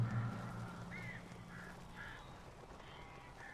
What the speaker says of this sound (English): These crows are taken, I presume.